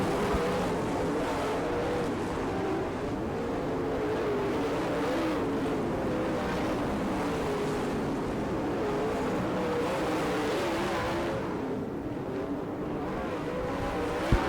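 Dirt late model race cars in a UDTRA Hav-A-Tampa race at Gibsonton, Florida roar continuously around the track on the final laps, a dense, loud engine wash with no clear gaps.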